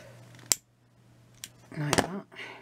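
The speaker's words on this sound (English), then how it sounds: "First of all, I need to cut this again. You need to do that with it. Diagonally cut it." Scissors snip through craft material for a pansy-style flower with a sharp single cut, then a longer crunchy slicing cut near the end, close and clear over a steady low hum.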